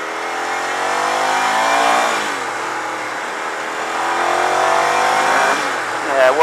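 A Ducati 900SS ie motorcycle engine pulls up through the gears, rising and falling revs on the move with shifts between, loud and close with wind rush.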